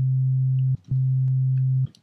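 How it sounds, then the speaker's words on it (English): A steady low synthesized sine wave tone at about C2 hums twice, each about a second long, separated by a brief gap, with faint clicks around it. "So there's our sine wave."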